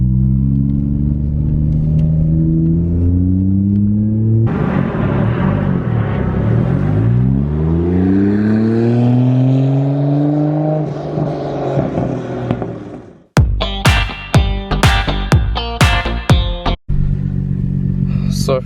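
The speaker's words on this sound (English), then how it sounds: "just give it some gas, start letting go, give some gas and let go of the clutch" A manual car's engine revs and climbs in pitch as it pulls away from a stop with the clutch released, running steadily throughout, with a few sharp clicks and knocks near the end.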